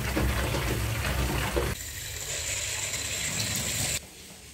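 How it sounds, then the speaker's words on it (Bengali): Tap water gushing at high speed into a container at home, a steady loud broadband rush that changes character partway through as the vessel fills, then drops in level near the end. "তো চলো এবারে আমি জল ভরে নিই।"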